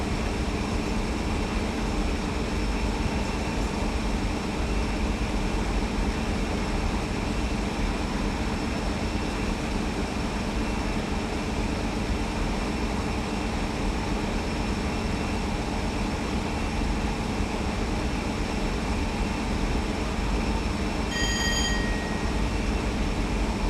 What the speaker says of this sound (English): I'm then going to idle the power to allow the train to coast